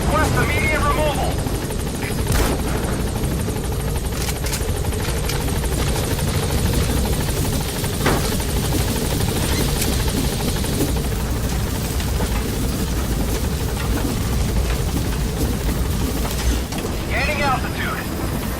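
Helicopter rotor thrum from Metal Gear Solid V: The Phantom Pain, loud and steady throughout as the chopper hovers near a landing zone, with radio-style voices speaking over the roar.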